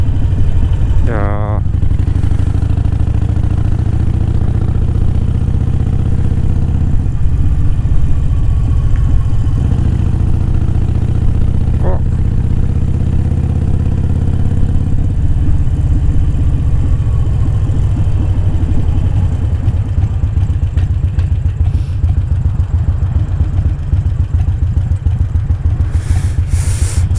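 A Harley-Davidson motorcycle engine throbs loud and close while riding on the road, a deep, steady low rumble with shifts in pitch as it changes speed, and someone talks over it.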